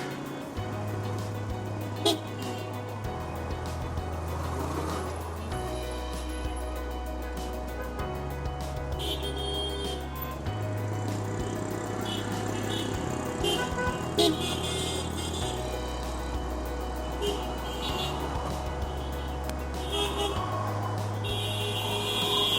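Dense road traffic in a Bangladeshi jam on the way to Uttara, with cars, trucks and motorbikes idling and creeping, engines rumbling steadily and a few horn toots and reversing beeps, all under continuous background music.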